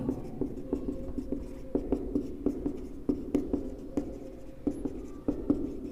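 Chalk or marker tapping and scraping on a board as someone writes math notes, a steady run of short strokes and taps at close range with no talk.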